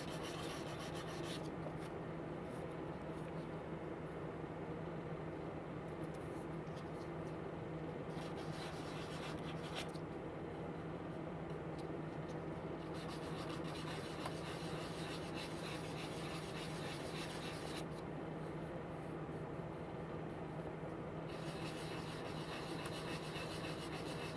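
Rough-grit sandpaper rubs in circular motions over a nub on a plastic Bandai 1/500 Space Battleship Yamato kit part, making a soft, continuous rasping scratch that pauses briefly several times.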